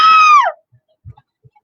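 A voice imitates an elephant's trumpet with a loud, brassy blare that slides downward and then cuts off, followed by a few faint soft noises.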